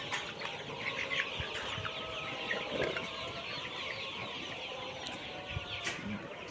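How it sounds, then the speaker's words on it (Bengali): A flock of Kazi High-Sex Brown pullets, forty-eight days old and around thirty-five hundred birds, on a poultry farm making steady overlapping clucks and murmurs throughout, a dense busy barn din with no talk. "এখানে মুরগির সংখ্যা আছে পঁয়ত্রিশশো পিস এই মুরগির জাত হচ্ছে কাজী হাইসেক ব্রাউন"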